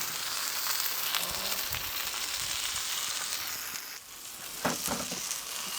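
Smoked haddock fillet seasoned with black pepper and salt sizzles on a hot shovel, a steady close crackling fry running throughout with a brief dip near the middle.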